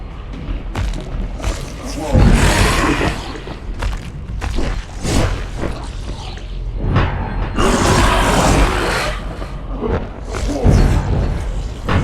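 Monster in the video game Achilles: Legends Untold, with heavy roars, thuds and booming combat impacts recurring throughout, loud and close, while someone talks over them.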